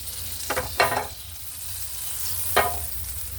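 Butter sizzling in a hot pan while an omelette is being made, heard as short bursts of frying crackle at the start and again near the end over a steady low kitchen hum.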